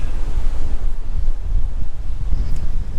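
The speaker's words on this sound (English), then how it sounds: "The wind's really starting to pick up now." Strong wind blowing at Navan Fort, an ancient site, roaring as a loud, steady rumble of wind buffeting the microphone with no letup.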